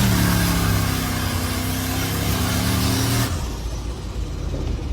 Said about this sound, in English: Does an okay power skid,